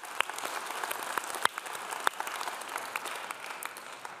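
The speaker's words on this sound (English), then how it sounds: "Let's also have a round of applause for everyone at Cured Catering for preparing this evening's food and drink" Applause fills a gala evening hall at the Presidential Library and Museum, a dense steady clapping from a large audience with a few sharper individual claps standing out, sustained throughout.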